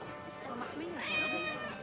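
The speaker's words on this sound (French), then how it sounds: "Oh, on peut caresser un chat." A cat meows in the video game Assassin's Creed Mirage, a short soft mew heard under a man's quiet speech.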